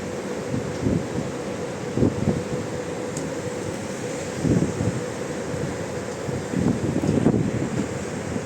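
Strong wind near the San Francisco Bay Bridge gusts against the microphone in uneven bursts over a constant hiss of moving air, with no voices present.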